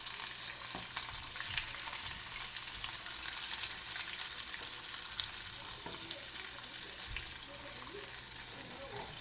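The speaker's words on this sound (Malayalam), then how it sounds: "മറിച്ചൊക്കെ ഇട്ട് നന്നായിട്ട് ഫ്രൈ ചെയ്തെടുക്കാം." KFC-style breaded chicken pieces deep-fry in oil over medium-low heat, giving a steady, even crackling sizzle throughout with occasional soft bumps as pieces are turned.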